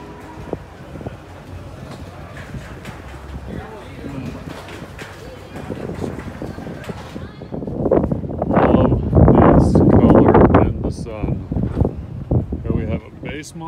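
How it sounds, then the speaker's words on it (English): Wind gusting outdoors at a race track, rumbling against the microphone and rising to a heavy buffeting roar in the second half while someone talks throughout. "It's a little dusty because the wind is blowing here."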